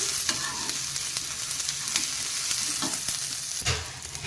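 Cumin seeds fry in a pan with a dense, even sizzle, and a utensil stirs and scrapes them in repeated light clicks close by. Nobody speaks.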